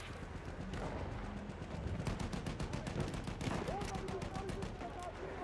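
Rapid machine gun bursts in a war video game, a dense train of sharp repeated shots at mid distance over low battlefield rumble, with a voice speaking faintly beneath.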